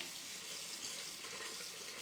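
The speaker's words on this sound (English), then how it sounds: "I'm gonna clean out our blender." Water runs steadily from a kitchen tap while a blender is rinsed out, a faint, even hiss with no talk.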